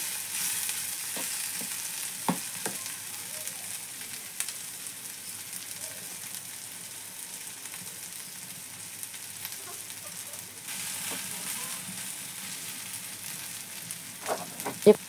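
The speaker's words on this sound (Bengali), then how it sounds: "দেখছেন আমি বারবার কিন্তু নেড়ে চেড়ে দিয়েছি, অবশ্যই বারবার নেড়ে চেড়ে দিবেন।" Food frying in a pan on low heat gives a soft, continuous sizzle, broken now and then by brief scrapes and knocks as it is turned and stirred.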